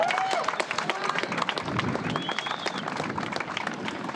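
Crowd clapping and cheering at a Kawasaki Superbikes championship celebration for 2020 champion Wayne Maxwell, a sustained busy patter of applause with a faint whistle and voices mixed in.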